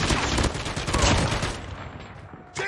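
Dense bursts of automatic gunfire from the Call of Duty Mobile video game rattle loudly during a team deathmatch, fading after about a second and a half before a short electronic sound cuts in at the end.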